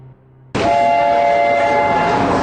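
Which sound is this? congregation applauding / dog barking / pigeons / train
train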